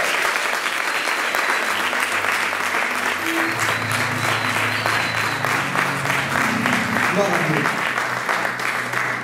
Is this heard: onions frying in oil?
no